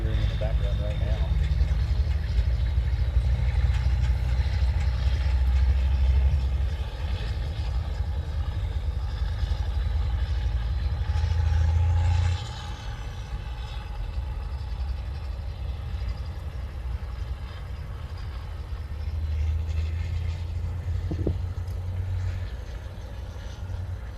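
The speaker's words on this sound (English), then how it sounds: "Planes and unexpectedly dump trucks. That's what you're hearing in the background right now." Dump truck engines idling and rumbling near the CVG airport, a steady low, heavy drone that swells and eases in the background beneath continuous talking.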